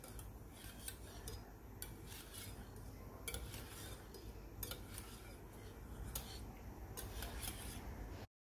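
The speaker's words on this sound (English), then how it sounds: "And slowly mix it with the cream." Chikoo mixture being slowly stirred into cream in a bowl for homemade ice cream, faint soft scraping and light clinks of a utensil against the bowl, no talking.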